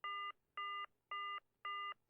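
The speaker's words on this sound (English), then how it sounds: "That doesn't sound like an American dial tone." A telephone tone in the video game Silent Hill 1, four evenly spaced electronic beeps with short gaps between them, clear and alone against a quiet background.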